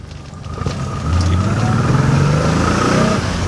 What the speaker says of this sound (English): The car is just not taking off.